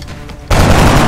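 Gunfire in the tactical video game XCOM: Enemy Within, a sudden loud burst of shots cutting in after quiet ambience and sustained as a dense, roaring volley to the end.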